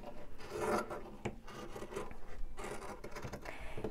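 Scissors snip and rasp through cotton batting fabric while an angel ornament is trimmed, a steady close series of soft scraping cuts with brief pauses, no talking.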